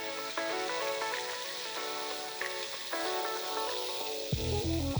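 Chopped ginger and garlic fry in hot oil in a pan with a steady, bright sizzle that runs continuously under a soft tonal background hum, ending with a low thud.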